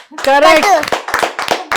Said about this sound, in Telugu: క్లాప్స్ కొట్టండి రా.